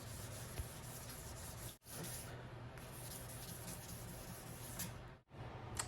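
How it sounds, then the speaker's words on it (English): Steady wet sanding on a motorcycle gas tank, a continuous close rubbing hiss that runs gently and evenly, broken by two brief pauses. "So we finished with the wet sanding now."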